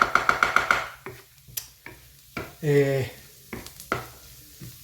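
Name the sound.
onions frying and sizzling in a pan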